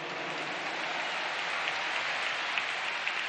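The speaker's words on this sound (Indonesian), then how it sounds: "Tepuk tangan buat semua yang hadir di sini." A massive crowd claps at a political rally in a large stadium, a broad continuous roar of applause heard from a distance and holding steady, with a few sharper claps standing out near the end.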